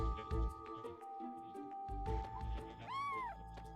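A single short cat meow, rising and then falling, rings out near the end. Before it come low rumbling noises and soft clicks from a game.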